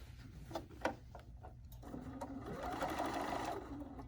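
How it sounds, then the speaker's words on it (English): A sewing machine back tacks while stitching a Swiss patrol pin cushion: faint, close, a few light ticks and taps, then a low whirring run of stitches. "Back tacking again."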